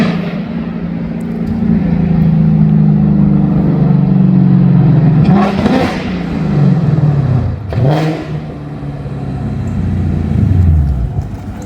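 A 2024 GT sports car with Kooks headers and auto rev match idles low, then revs sharply twice in quick succession, loud and close, settling back between each burst.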